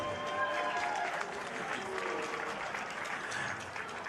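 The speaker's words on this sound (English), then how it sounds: "let's give both fighters a big round of applause" A crowd at a fight night event applauds steadily throughout, a dense wash of clapping with some cheering mixed in.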